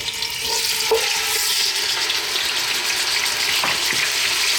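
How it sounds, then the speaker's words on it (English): Lamb with bone and a little fat drops into hot olive oil in a lidded saucepan over medium heat, giving a loud, steady, close sizzle with faint stirring bumps and no talk. "We're going to drop in our lamb."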